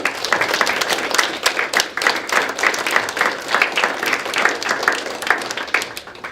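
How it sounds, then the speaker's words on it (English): Audience at a National Technical Honor Society induction ceremony at a technical center applauds the inductees, a steady, fairly close burst of many hands clapping that runs evenly for several seconds. "Let's give them a round of applause."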